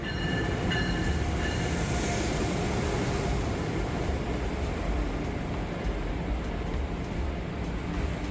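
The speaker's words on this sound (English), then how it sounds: "get this wonderful shot of our Acela arriving" An Amtrak Acela train arrives at New York Penn Station with a loud, continuous rumble and rolling wheel noise that fills the platform, steady throughout with faint clicks and a high tonal whine.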